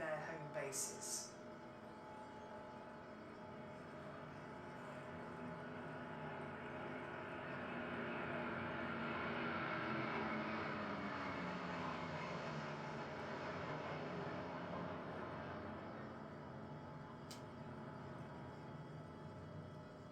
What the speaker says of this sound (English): Flying behind the Poseidon and Typhoons is the rivet joint from RAF Waddington with another 2 Typhoons from RAF Coningsby.